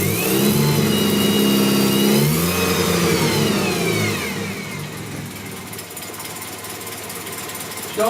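A Colt Lancer turbo EX2000 engine, just boosted from a battery pack on a mild day, runs loud and steady with some revving and mechanical whine, then settles into a slightly rough, lower idle.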